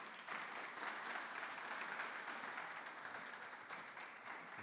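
Sustained applause from a conference audience welcoming a scientist to the stage at an international scientific research congress, even and continuous clapping heard at a distance, moderately faint.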